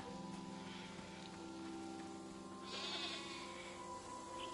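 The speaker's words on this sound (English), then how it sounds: "baby goats" Baby goats bleat softly on a farm, a few faint, wavering calls set against a steady low hum, with one louder bleat near the end and no talking.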